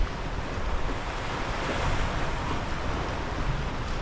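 Rough, choppy sea surges and breaks in a constant wash of surf while gusting wind buffets the microphone, loud and close with no voices on a winter fishing shoreline.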